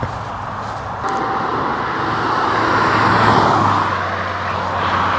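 Cars roar past steadily on a dual carriageway, a continuous near traffic rush that swells and fades as vehicles go by, with no voices.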